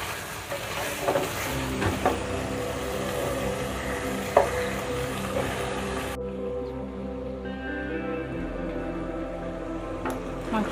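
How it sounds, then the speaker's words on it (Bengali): Beef for a home-spiced beef curry being stirred and mixed in a pan, with a steady close sizzle and irregular scraping stir strokes throughout. "মাংসটাকে এভাবে আমি সুন্দর করে মিশিয়ে"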